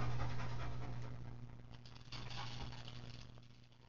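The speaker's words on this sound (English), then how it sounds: "He's gonna shake off." Wet dog shaking off water after a bath, a close, loud burst of flapping fur and spraying droplets that gradually fades.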